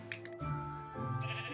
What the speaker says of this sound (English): Okay, so you just spawned a sheep.